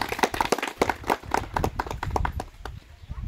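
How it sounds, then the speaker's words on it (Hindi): A crowd gives loud, dense applause for a woman at a gathering in Kathikund, Dumka, Jharkhand, celebrating a scooty achievement. The clapping is continuous and close for several seconds. "चलिए एक बार जोर ताली हो जाए दीदी के लिए।"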